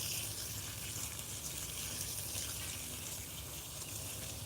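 A garden hose hand-waters a garden bed at a suburban homestead, a faint steady hiss and patter of spray running continuously with no voices.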